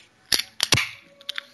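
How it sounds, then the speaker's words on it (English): A can of Mountain Dew soda being opened: a few sharp, close metallic clicks and a quick snap-hiss of the tab, then small faint clicks trailing off, with no talking. "You're opening a can of soda."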